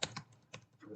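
Fingers tap out a username on a computer keyboard: a few quick, faint, close keystrokes in about one second.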